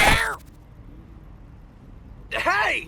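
Cat meowing twice in the video game YIIK, short close vocal calls at the start and end separated by near silence, with no purring evident.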